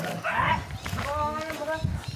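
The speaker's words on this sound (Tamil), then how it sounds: "ஏ, ஆடை தான் பார்த்து குலைக்குதுங்களா?" A dog barks at goats in a forest, sharp barks and yips at moderate distance, with people talking over it.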